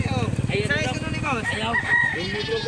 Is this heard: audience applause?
no